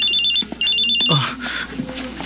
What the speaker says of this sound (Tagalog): Nagre-ring ang cellphone ni Mama Sita